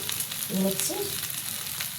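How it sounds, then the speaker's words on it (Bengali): Dried red chillies frying in oil make a close, steady sizzle with faint stirring noises and a brief tonal clink in the middle, with no voices. "শুকনো লঙ্কা ভাজা"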